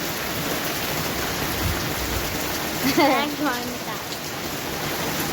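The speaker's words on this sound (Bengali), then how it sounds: "তার মধ্যে বৃষ্টি পড়ছে ভীষণ ঝড়ে আমরা আটকে গেছি" Dense, steady rain hisses throughout, with a voice briefly speaking over it near the middle.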